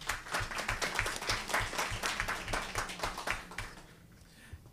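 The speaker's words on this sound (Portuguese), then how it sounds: "Um salva de palmas aí para o colega" A seated group at a commission session on combating discrimination and Afro-Indigenous culture claps for a colleague, a close, dense patter of individual hand claps that thins and fades out over the last second.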